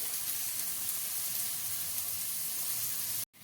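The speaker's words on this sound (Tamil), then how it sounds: "வெங்காயம் கொஞ்சம் ஒரு 2 நிமிஷம் நல்லா வதங்கி வரட்டும்." Onions sautéing in a pan for a mushroom gravy give off a steady, close, even sizzle that cuts out abruptly just before the end.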